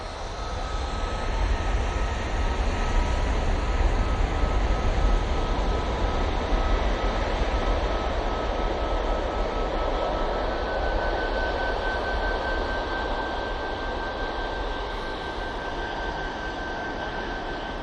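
A Gulf Air airliner at Manchester Airport gives a sustained jet rumble with a thin steady whine running through it, building early and then easing slightly toward the end, with no voices.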